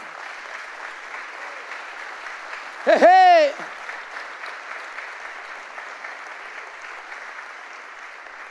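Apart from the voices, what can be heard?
church congregation applauding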